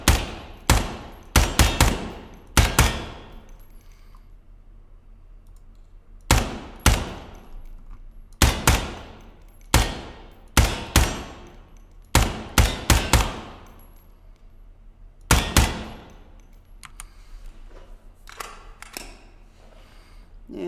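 AK-74 rifle fire in the Ground Branch game, loud close bursts and single shots in irregular clusters with short pauses between volleys, no talking.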